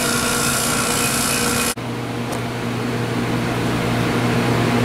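Vacuum pump pulling down a single-door Continental freezer, a loud steady mechanical hum with a brief dropout partway through, then it resumes running at an even drone.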